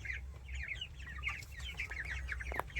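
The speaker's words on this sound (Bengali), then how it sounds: "এই দেখেছো আমার মুরগি ফার্মগুলো" Chickens on a small poultry farm cluck steadily throughout, several birds overlapping in busy close calls over a low constant hum, with a brief sharper squawk near the end.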